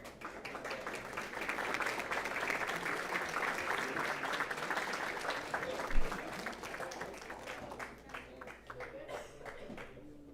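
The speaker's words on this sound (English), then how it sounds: "How about a round of applause?" Audience applause for students at a school district board meeting: sustained crowd clapping heard from a distance, steady and moderate in level, thinning out toward the end.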